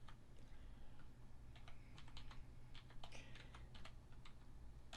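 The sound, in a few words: typing a website address on a computer keyboard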